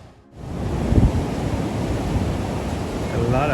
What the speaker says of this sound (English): And obviously we have good waves.